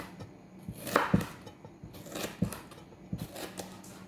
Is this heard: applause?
no